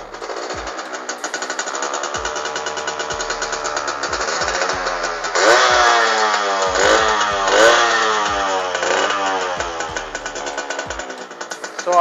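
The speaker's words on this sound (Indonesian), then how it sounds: "Untuk teman-teman yang pengen dengar suara motor ini untuk mesinnya" Restored Suzuki Tornado GS motorcycle with an oversized engine bore, running close by with a rapid, rattly single-cylinder beat that rises and falls as the throttle is blipped.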